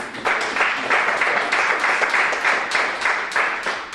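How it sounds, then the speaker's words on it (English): An audience at a swim league managers meeting applauds with continuous, dense clapping that holds steady for several seconds, close and fairly loud. "give a round of applause for these people"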